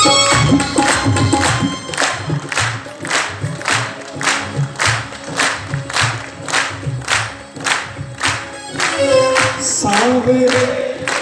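An audience at a devotional bhajan program at a Fagun Mela claps in steady rhythmic unison, loud sharp claps repeating about twice per second for around ten seconds alongside music, with crowd noise underneath.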